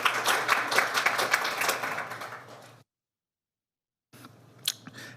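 Clapping at a school governing board meeting honors school counselors, a moderate round of applause from a room of people that tapers off, cuts to silence, then resumes briefly with a few scattered claps.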